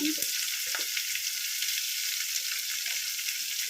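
Onions frying in a pan for a carom-seed rice dish give off a steady, bright hiss of sizzling oil, close and continuous, with a few soft stirring scrapes at the start.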